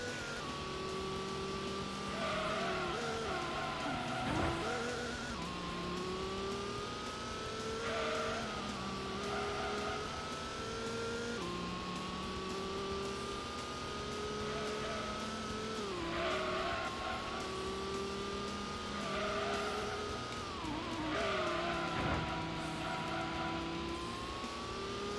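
Race cars from the Gran Turismo video game on a Clubman stage circuit, engines whining steadily with repeated gear changes and rising revs, occasional tire squeal and skids, loud and continuous throughout.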